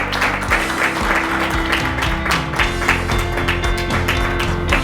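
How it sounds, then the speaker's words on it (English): An audience applauds an award winner during a morning conference session of panels and keynotes, a steady, dense clapping filling the whole stretch with faint background tones underneath. "Please, round of applause for Peter Dubrell."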